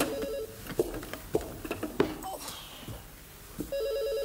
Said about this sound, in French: Maggie, tu veux pas répondre au téléphone?